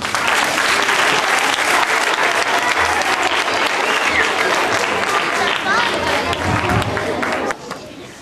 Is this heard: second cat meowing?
no